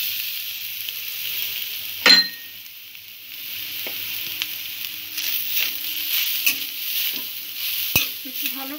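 Grated coconut frying in hot ghee in a pan, a steady soft sizzle with scattered spoon scrapes and clinks as it is stirred, plus one sharp clatter early on, close and without talk.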